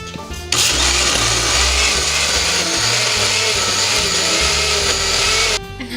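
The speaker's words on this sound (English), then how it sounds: "And now we're gonna blend it on high for 2 minutes." A blender kicks on and whirs loudly at high speed blending horchata, a steady, harsh motor roar that runs several seconds before stopping.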